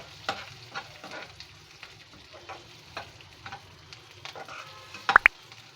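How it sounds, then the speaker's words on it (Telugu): Moong dal frying in a little oil with curry leaves for spinach dal curry, a soft steady sizzle with regular light stirring taps and a sharper clink near the end, close and fairly quiet, no talk. "ఈ పెసరపప్పును కొంచెం నూనెలో వేపుకోవాలి."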